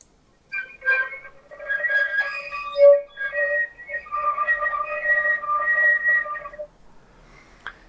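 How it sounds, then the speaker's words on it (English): Thin, airy whistle tones from a shakuhachi flute blown at the utaguchi edge, a series of wavering pitched notes close up, heard alone in a quiet room. "aim directly at the blowing edge, called the utaguchi. You may start to hear whistle tones like this."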